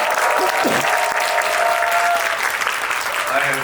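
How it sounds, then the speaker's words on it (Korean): Audience applause at a film screening Q&A event as a director is welcomed, a dense, steady wash of clapping that holds strong throughout, with a few voices and cheers mixed into the crowd. "큰 박수 부탁드리겠습니다"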